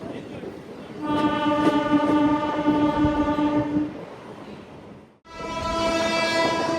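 A Nellore to Vijayawada MEMU express train runs loudly with long, steady horn blasts layered over the rumble; the horn breaks off briefly near the end, then sounds again.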